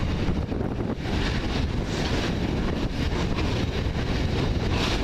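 Strong wind buffets the microphone at Ulleskelf, a continuous loud roaring rumble that swells and dips slightly across the whole stretch with no other sounds breaking through.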